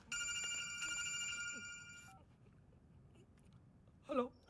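A telephone rings in a film scene with a bright, repeated electronic trill for about two seconds, then cuts off into quiet room tone, followed by a brief vocal sound.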